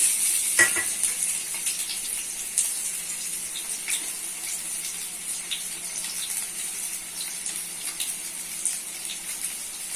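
Potatoes frying in soybean oil in a pan, a steady soft hiss and crackle of sizzling oil with a few sharper pops, close and fairly quiet, with no talking.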